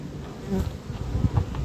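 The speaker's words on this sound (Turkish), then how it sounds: "Arı dolu arı yukarı çıkmıyor" Honey bees in a hive, frames full of bees, hum and buzz in a dense, close droning swarm, with a few louder buzzes passing near.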